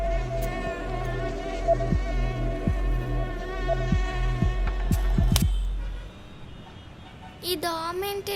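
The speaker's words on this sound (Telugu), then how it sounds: "ఈ దోమేంటి డైనోసార్లా ఉంది." A mosquito whines in a steady, high, droning buzz that fills most of the scene, then cuts off near the end as a brief rising tone sounds alone.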